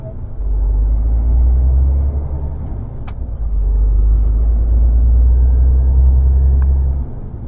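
From inside a car waiting at a roundabout and then pulling through it, a loud, close, steady engine and road rumble runs throughout, with a brief dip in the middle before the drone resumes.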